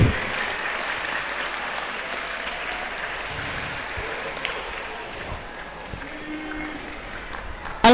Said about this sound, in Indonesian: Mana tepuk tangannya kepada narasumber kita yang inspiratif.